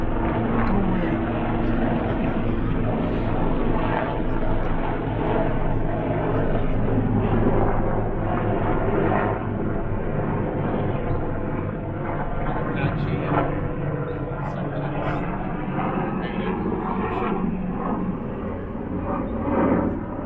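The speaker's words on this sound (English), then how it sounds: "That's the sound of airplanes." Airplanes flying overhead make a steady, loud droning roar that fills the whole stretch, with a broad rumbling engine tone that holds level and never fades away.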